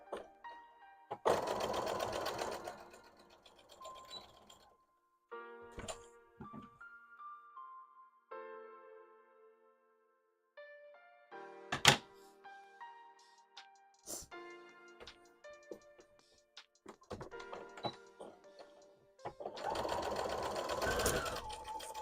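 A home sewing machine stitches fleece or fur for a handmade Appa plush, running in short bursts of rapid mechanical whirring, separated by quiet gaps, clicks and handling noises, close and fairly soft.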